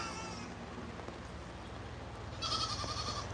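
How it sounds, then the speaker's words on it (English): A goat bleats faintly near the end, a short wavering call rising over a quiet farmyard background. "Who's this goat right here?"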